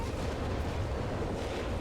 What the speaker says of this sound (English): this Noble Barrage right on target here